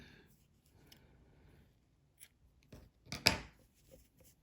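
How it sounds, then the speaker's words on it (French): Scissors snip crochet yarn after a few faint rustles, a soft close cut near the end with a brief louder snap, heard alone in a quiet room. "Et maintenant, je peux couper mon fil."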